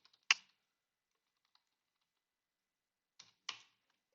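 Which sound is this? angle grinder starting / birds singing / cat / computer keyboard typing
computer keyboard typing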